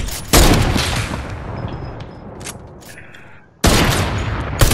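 Loud bursts of opponent gunfire from a heavy sniper in the Fortnite video game, two dense booming volleys with a quieter stretch of echoing tail between them, close and forceful.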